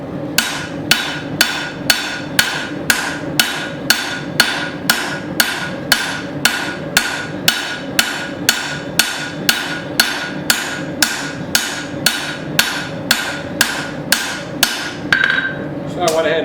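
Sharp metallic hammer blows from a 2-pound forging hammer ring out in an even, rapid rhythm while a tomahawk head is shaped on an anvil, continuing for many strikes before a short scraping at the end.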